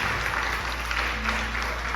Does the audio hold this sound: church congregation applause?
yes